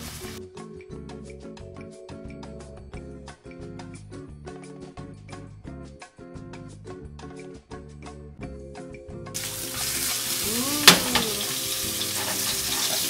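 Meat sizzles in a pan with butter, garlic and thyme, a faint steady frying crackle with regular clicking ticks that swells into louder, brighter sputtering as basting begins near the end.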